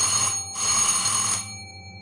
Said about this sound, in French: Puis, quelqu'un commence à sonner à la porte en bas.